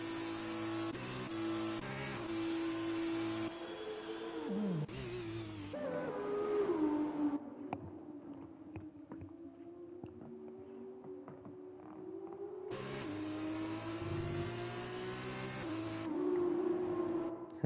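Several F2 race cars in the video game F1 2020 at the Hungary circuit accelerate after a virtual safety car restart, their engines loud and close. Rising, shifting engine tones repeat through gear changes, with brief quieter stretches between bursts.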